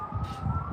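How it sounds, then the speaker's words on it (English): Distant ambulance siren, a steady wailing tone drifting in faintly over low outdoor rumble on a back road. "that sounds like an ambulance there."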